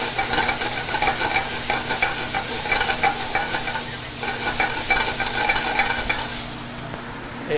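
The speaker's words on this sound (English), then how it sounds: "once you see the noodles start to soften up" Pancit noodles stir-fry in a hot pan with a continuous loud sizzle and hiss, while a utensil scrapes and tosses them in an uneven rhythm throughout.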